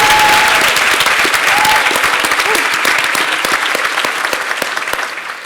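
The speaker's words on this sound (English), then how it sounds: "Can we clap for her again?" Loud, sustained audience applause in a conference hall during a closing session of a training event, dense clapping that starts at full strength and slowly fades toward the end.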